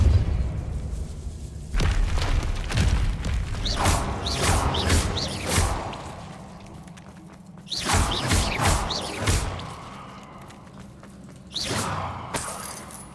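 Loud magical blasts from Confringo and Depulso spells in the Hogwarts Legacy video game: heavy booming impacts with crackling, shattering debris, arriving in several separate bursts.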